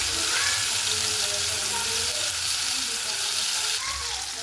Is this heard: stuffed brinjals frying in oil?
yes